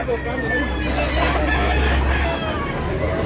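A rooster crows at a Filipino gamefowl farm, its drawn-out call rising over steady barnyard clucking and a low background hum, fairly near and continuous throughout.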